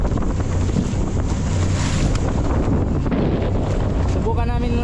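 Strong wind buffets the microphone over open water, with waves slapping a boat and an engine droning underneath; a voice calls out briefly near the end.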